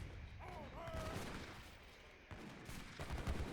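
Rocket mortar siege units fire in an Age of Empires game battle as a quiet, continuous rumble of gunfire and distant booms, with short tonal game blips early on and a thump near the end.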